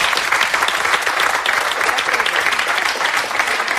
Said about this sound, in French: vous applaudissez maintenant.